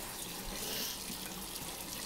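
Hot water flows steadily from a kitchen tap into a measuring cup for pretzel dough, a continuous close hiss and splash that is fairly quiet and heard alone.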